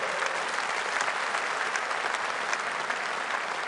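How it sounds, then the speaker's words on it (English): Audience applause at a Reform political rally in Birmingham, a continuous, even roar of clapping from a large crowd that holds steady and moderately loud. "Give Richard a round of applause."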